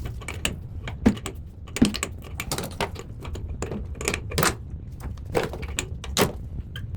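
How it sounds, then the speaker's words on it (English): A shifter wrench tightens a quarter-turn tap fitting on a toilet cistern, making a run of close, irregular metallic clicks and scrapes over a low background hum, with no voices. "I'll get the shifter onto it and tighten it up"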